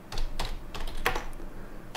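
Quick bursts of key clicks as a command is typed on a computer keyboard, close and crisp, with no talking.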